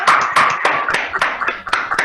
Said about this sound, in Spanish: ¿Por qué no abrimos los micrófonos y aplaudimos?